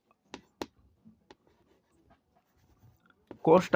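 A pen writing on paper: sparse, short, faint scratching strokes with quiet gaps between them, followed by a brief burst of a voice at the very end.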